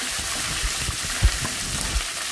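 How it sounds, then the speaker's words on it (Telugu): Curry leaves sputter in hot oil for a tempering, a dense continuous crackling sizzle heard close up with a few soft stirring bumps and no talk. "ఆ కరివేపాకును కూడా ఇలా పోపులో వేసేసి మరి కాసేపు మనం వేయించుకోవాలి"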